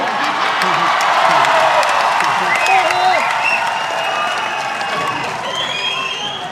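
A festival crowd at Kurukshetra's Ratnavali in Haryana applauds and cheers steadily for a visiting Bollywood actor, with shrill whoops and whistle-like shouts rising over the dense clapping and voices throughout.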